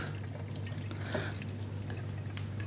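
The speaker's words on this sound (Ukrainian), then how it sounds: "Тим часом у нас зварився рис. Ми його виливаємо в друшлачок." Freshly cooked rice and its hot water poured into a colander to drain, giving a steady, close splashing trickle that runs without a break and without any voices.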